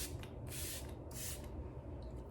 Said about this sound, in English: I'm going to go ahead and spray this on my face